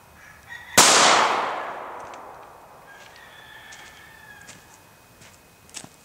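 A single sharp 9mm gunshot firing a 115-grain Barnes TAC XPD solid copper bullet from a short barrel into ballistic gel outdoors, a loud close crack followed by a long fading echo.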